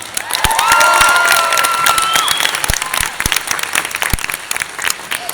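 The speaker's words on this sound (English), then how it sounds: "let's give a big round of applause" An audience at an anime convention voice actor panel in Boston bursts into dense, loud applause, with cheers and whistles rising over the clapping before it tapers off slightly.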